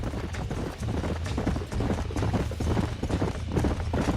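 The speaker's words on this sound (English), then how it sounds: "Let's see if we can track down that other herd of horses." Steady clip-clop of horse hooves at a gallop in the video game Red Dead Redemption, a dense rapid rhythm over a low rumble, sounding close and continuous throughout.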